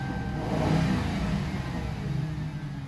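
A 2007 Crown Victoria Police Interceptor's 4.6 liter V8 revs up close and loud, a throaty roar swelling in the first second, then holding at a steady, rumbling drone.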